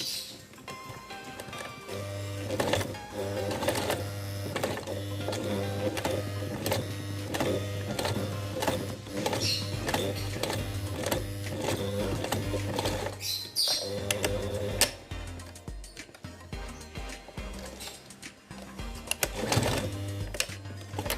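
A sewing machine stitches a waistband and runs steadily with a rapid, even mechanical clatter. It pauses briefly and then restarts, close and clear with no talking.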